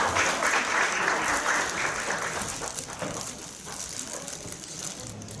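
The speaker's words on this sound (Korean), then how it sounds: "다시 한번 큰 박수 부탁드리겠습니다." Sustained applause from an audience at a Korean award ceremony, the 2018 Korea Top Class Awards, a dense steady wash of many hands clapping that holds for several seconds and eases slightly toward the end.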